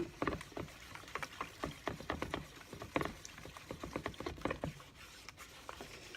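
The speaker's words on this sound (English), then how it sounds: "just a little bit more stirring and we're going to be good" A homemade DIY waterproofing mixture is stirred in a container, giving quiet, irregular wet clicks and soft sloshing patters in quick succession, close up with no talking.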